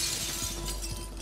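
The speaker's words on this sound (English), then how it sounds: "Speaking of loud, I just broke that glass too." Glass shattering in a fast-paced shooter video game, a single crashing break with a few scattered tinkling transients over a steady game background hum.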